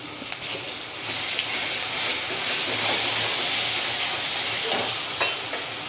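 Garlic and dried red chili paste frying over a low flame with asafoetida and green chilies for a Gujarati dahi gavar curry, a steady close hiss and sizzle with occasional stirring scrapes throughout, no voices.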